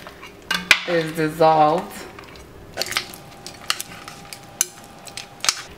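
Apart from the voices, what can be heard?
stirring goat stew in a pot to dissolve bouillon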